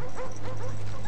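Attack dogs in Black Ops on the Nuketown map give a quick burst of close, loud yipping barks and whimpers, all packed into about a second.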